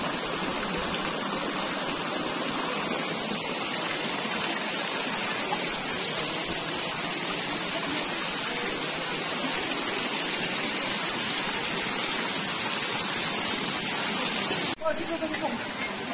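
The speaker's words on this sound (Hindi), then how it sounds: "तो ये 108 जल धाराएं हैं जो कि आ रही है ऊपर पहाड़ों से" The 108 water spouts at Muktinath in Mustang, Nepal, run down from the mountains in a dense, steady rush and splash that stays constant and close, with a voice speaking faintly over the flowing water and a brief break near the end.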